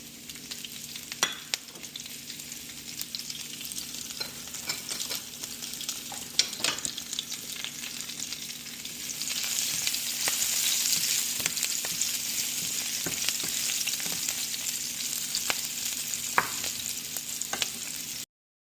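Ajwain, ginger and green chillies fry in hot oil, a continuous close sizzle that swells louder midway, with clicks and scrapes of stirring scattered throughout.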